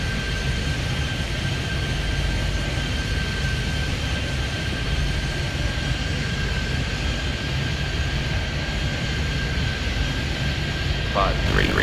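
A steady, loud airplane engine roar fills the background as an aircraft takes off in the Airport Madness air-traffic video game, holding constant over the whole stretch.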